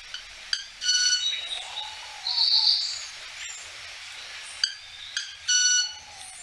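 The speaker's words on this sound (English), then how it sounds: "Some birds can vocalize using specialized feathers, like clumped manakin, which uses ornamental secondary feathers to create high-pitched sounds used in mating." Club-winged manakin making high-pitched, buzzy, tonal notes with its wing feathers, several short bursts spaced apart over quiet background, fairly clear and close.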